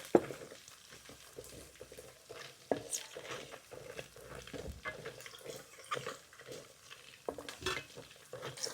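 Garlic goes into hot oil with ginger that is already browning, frying for a Kerala-style fish pickle. A soft, steady sizzle sits under scattered scrapes and taps of a spoon stirring in the pan, fairly quiet and close.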